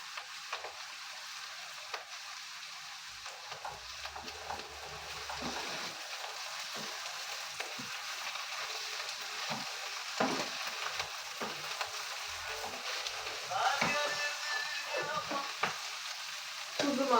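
Onions and peppers frying in a pan for an oyster mushroom sauté, with a soft, steady sizzle and occasional light stirring clicks throughout.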